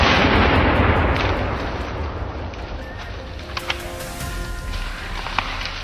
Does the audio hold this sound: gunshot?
yes